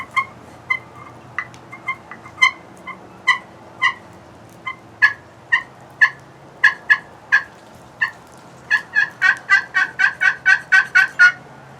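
Turkey hunting calls imitate hen yelps and clucks in a steady run of sharp, close notes, starting spaced out and building into a fast, loud rapid-fire series near the end.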